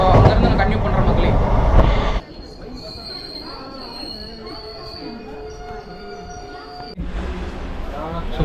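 The Yercaud Express train travels on rails with a loud rumble and clatter, then the sound dips into a quieter, steady squealing ring with whistling tones before the heavy rolling noise returns loudly.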